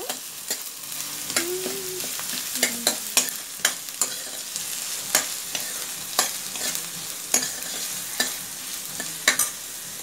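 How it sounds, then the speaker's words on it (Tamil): Onions sauté in a pan for white kuruma, giving a steady close sizzle broken by regular scraping and clacking stirring strokes through the whole stretch, with no voices. "வெங்காயம் போட்டுட்டு வெங்காயம் நல்லா வதங்கணும்."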